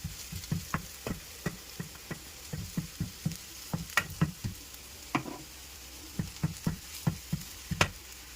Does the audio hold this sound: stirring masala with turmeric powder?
yes